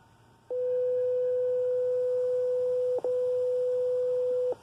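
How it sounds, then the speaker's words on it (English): Steady pure 500 Hz tone from an online tone generator, sounding alone and continuous for about four seconds with a brief break partway through, clean and fairly loud against faint background hiss. "when I hit the play button, what's going to happen is you're going to hear a tone"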